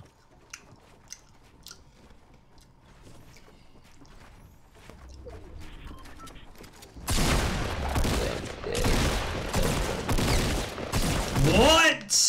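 Fortnite gunfire cuts in after a quiet, muffled start, turning into loud, close bursts of rapid shots that keep repeating to the end, with some talking mixed in.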